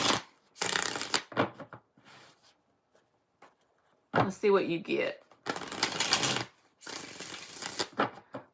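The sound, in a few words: shuffling tarot cards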